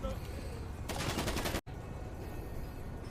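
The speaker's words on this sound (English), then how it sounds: "a cop has shot another cop" In a GTA 5 roleplay scene, a rapid burst of gunfire from a cop shooting another cop rings out in about a second-long volley, then cuts off abruptly, over dense background noise and voices.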